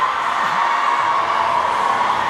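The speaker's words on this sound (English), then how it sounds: "You can hear the crowd in the background here." A large crowd roaring steadily in an arena at an ice hockey game, Philippines vs. Hong Kong, a continuous wash of cheering and shouting with no breaks.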